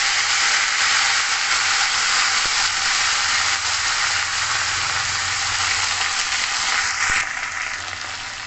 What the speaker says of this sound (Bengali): তেল গরম হয়ে গেছে, এখানে আমি দেবো নিম পাতা দিয়ে দিলাম।